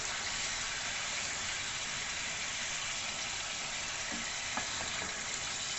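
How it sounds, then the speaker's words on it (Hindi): Chicken fries with salt in a karahi, giving a steady, broad hiss of sizzling oil at a fairly quiet level, with a few faint scraping stir sounds near the end and no voices. "चिकन को नमक के साथ 3 से 4 मिनट के लिए भूनेंगे"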